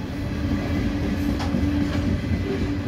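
Northbound CSX freight train of covered hoppers rolling along the tracks, a steady continuous rumble with faint wheel noise, heard alone at moderate distance.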